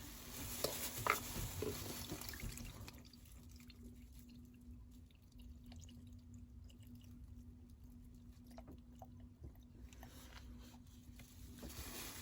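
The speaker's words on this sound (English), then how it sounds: "I've just put the diesel out of this filter just into that one" Diesel is poured from one oil filter into another during a Volvo Penta sailboat engine service, a faint dripping and trickling of liquid over a low steady hum, without talk.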